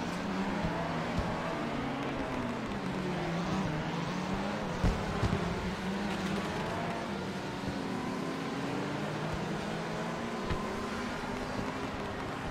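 Race cars in the iRacing Le Mans Series at Circuit de Spa-Francorchamps: a steady, droning engine whine that rises and falls in pitch as the cars run together, continuous and without talk.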